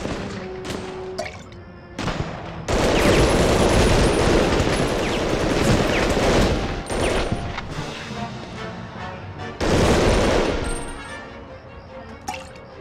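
Bursts of rapid gunfire in the PS1 game Medal of Honor: Underground erupt in long volleys, loud and dense, separated by brief quieter gaps with scattered single shots.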